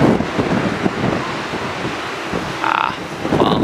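Strong wind buffets the microphone in a constant rough roar on a high, exposed spot in Sweden, with a few brief higher tones breaking through.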